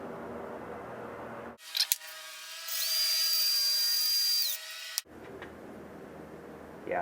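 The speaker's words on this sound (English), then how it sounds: "got the 3-stone hone ready to go here on the cordless drill" A cordless drill spins a 3-stone cylinder hone lubricated with a little silicone, a sharp whirring whine held for about three seconds that climbs in pitch, then stops abruptly; quiet room noise before and after.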